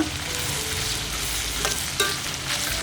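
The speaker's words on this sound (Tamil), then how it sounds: "ஒரு ரெண்டு கொத்தளவு அளவு கருவேப்பிலையும் சேர்த்திட்டு நல்லா வதக்கி விட்டுடலாங்க" Dried red chillies and curry leaves sautéing in oil, a dense close crackling sizzle with stirring scrapes and a sharper clink near the end, no voices.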